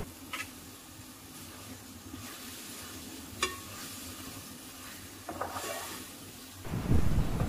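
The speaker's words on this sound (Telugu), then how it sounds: "సో ఇలా మన ఆకుకూరల నుండి ఆయిల్ వేరయ్యే వరకు ఫ్రై చేస్తూ ఉండాలి." Amaranth greens fried in oil in a pan while being stirred, giving a steady close sizzle with occasional scraping clicks and a louder rush of frying at the end.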